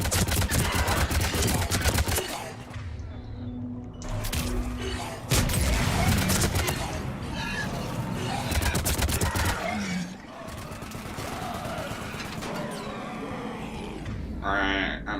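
Sustained gunfire in the shooter game Mass Effect 3: dense, rapid bursts of shots and booming impacts that run almost continuously, with a voice occasionally speaking over the battle.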